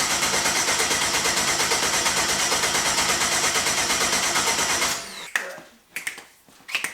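A twin-turbo Ford Mustang engine cranks with a fast, steady rhythmic churn for several seconds, then cuts out into a few scattered clicks and knocks without catching, heard close and loud.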